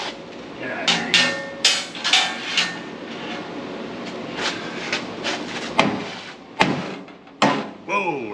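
A hammer strikes car parts on a vehicle whose engine and steering are coming apart, landing a series of sharp metallic blows at an uneven pace, close and loud, ending in one harder hit.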